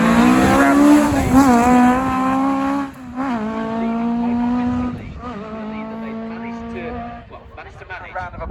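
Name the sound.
rally car passing the commentary box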